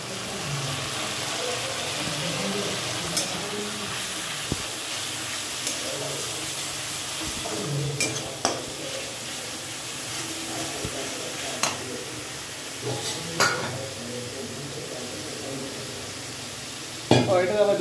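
Spices with turmeric, chilli, cumin and salt frying for a homemade mutton curry, a steady close hiss and sizzle with scattered scrapes and knocks of stirring, low voices in the background.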